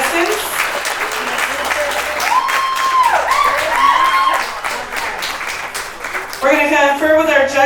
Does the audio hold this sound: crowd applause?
yes